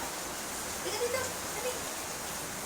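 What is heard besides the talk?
heavy rain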